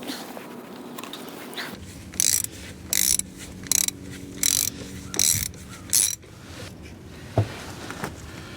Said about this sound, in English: I just crimped the end of this line.